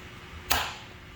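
A single sharp snap, quick and close, from the spring-loaded punch of a Whitney hand punch releasing, followed by a short decaying ring.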